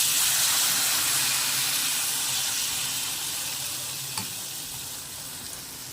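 Mango malpua frying in hot oil in a wok: a dense, loud, continuous sizzle and hiss fills the whole stretch, close up and easing slightly toward the end, with no voices.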